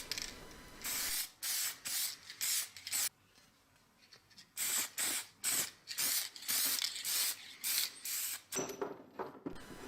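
Clear coat lacquer sprayed onto a restored chain axe head in repeated short hissing bursts of about half a second each, close and even, with a longer pause midway and a mechanical click near the end.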